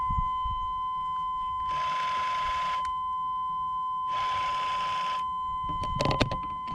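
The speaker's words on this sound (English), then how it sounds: "Now the door buzzer is going to go off, so you hear a funny beep." A steady electronic tone hums throughout while two long buzzing beeps from a 1995 Chevrolet Silverado door buzzer sound one after another, followed by a brief clatter.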